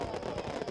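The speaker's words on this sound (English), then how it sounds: "They love Sir Topham Hatt's fireworks" Dense crackling Halloween fireworks, a steady barrage of bangs and pops with no pauses, fairly loud and close.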